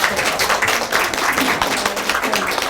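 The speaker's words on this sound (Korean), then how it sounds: "박수 한번 보내주세요" Applause from the audience at a Korean mothers' association conference, a steady dense wash of clapping filling the room at an even level for a few seconds.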